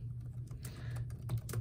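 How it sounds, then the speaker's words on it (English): Fingers tap across the keyboard of a Samsung Chromebook 3 11.6-inch laptop, a close, quiet run of irregular plastic key clicks over a low background hum. "Let's try the keyboard out."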